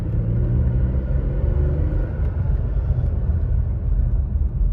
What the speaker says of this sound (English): so like the acceleration in this truck